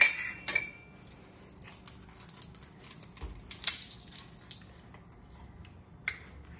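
A glass Pyrex measuring cup gives a few light, scattered clinks and taps as it is handled in a kitchen, faint and close, with quiet gaps between the sharp contacts.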